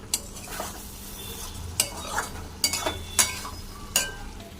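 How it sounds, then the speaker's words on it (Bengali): A spoon stirs garam masala into a potato and capsicum curry in a pan, making a series of scraping strokes and clinks against the metal over a low, steady sizzle, about six distinct stirs spread evenly. "ভালো করে মিক্স করে নেব।"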